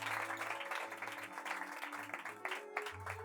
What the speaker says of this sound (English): Give Danny a nice round of applause